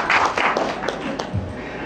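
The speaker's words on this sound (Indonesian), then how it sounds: "Berikan tepuk tangan buat diri Anda sendiri" A church congregation at a sermon applauds itself with loose, uneven clapping that thins out over a couple of seconds, with a few sharp individual claps standing out.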